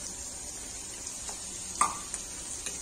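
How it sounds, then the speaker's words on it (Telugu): Curry leaves crackle in hot oil over well-fried onions, a steady close sizzle broken by a few sharp spits and pops, with a light scrape of stirring and no voices. "Now add curry leaves."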